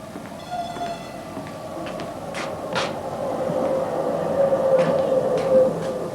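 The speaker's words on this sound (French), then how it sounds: "je crois que le tramway arrive" Stage sound effect of a tram arriving at a stop, a steady rolling rumble with metallic squeals and a faint horn-like tone, growing slightly louder as it draws in, with no talk.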